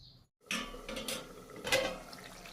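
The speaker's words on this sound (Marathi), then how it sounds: "व्यवस्थित असं हलवून घ्यायचं आहे।" Brinjal and potato curry being stirred in a pot, giving soft clinks and scrapes of a spoon against metal with faint wet sloshing, close and quiet over about two seconds.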